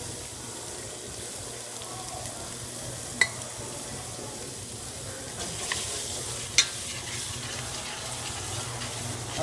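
Gulf shrimp and a whole rock lobster tail sizzle loudly in a hot pan, a steady crackling fry broken by a couple of sharp clanks or stirs, close up with no talking.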